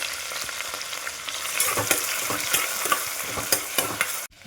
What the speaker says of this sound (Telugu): స్పైసెస్ కొంచెం వేగిన తర్వాత సన్నగా కట్ చేసుకుని ఉల్లిపాయలు వేసుకోవాలండి.